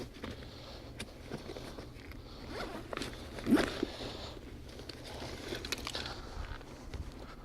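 A zipper on a camera bag is pulled open to get at a camera, a short rasping zip standing out midway over soft handling rustle and faint shuffling, close by and with no talking.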